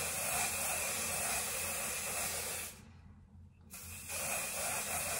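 Hairspray hisses as it is sprayed close onto salon-style blow-dried hair at home, in two long, steady bursts separated by a short pause, close and fairly loud with no talking.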